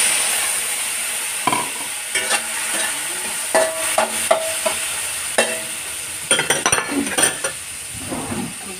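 Tomatoes stir-frying in oil for a Chinese-style tomato and egg dish, a steady sizzle broken by repeated scraping and clinking of a utensil against the pan, close and fairly loud with no talking.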